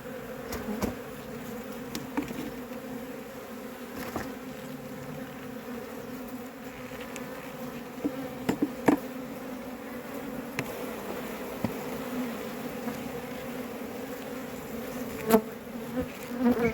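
A steady, droning buzz of many honeybees at a hive, close and continuous, with occasional louder individual bees passing near.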